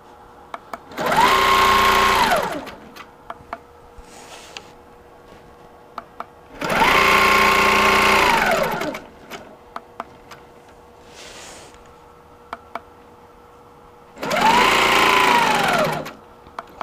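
A sewing machine quilting a geometric shape in a square runs in three separate bursts of steady high-speed stitching, each a couple of seconds long with a rising and falling whine, separated by quiet pauses with small clicks.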